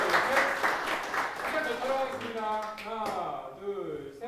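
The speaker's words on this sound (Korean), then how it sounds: "큰 박수 한번 다시 한번 부탁드립니다." Audience applause at a Korean political event, a steady crowd clapping that fades as voices and talk rise over it toward the end.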